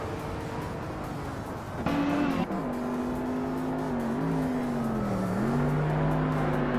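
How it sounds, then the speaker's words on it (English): A 1992 Jaguar XJ220 race car howls through its gears in a racing game, its engine note rising and shifting with a sharp change near the start, loud and continuous with other cars around. "Majako Bleich is driving a 1992 Jaguar X J220."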